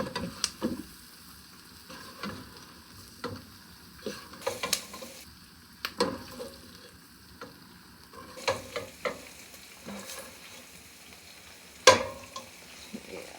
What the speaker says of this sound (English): add my peppers and onions right into that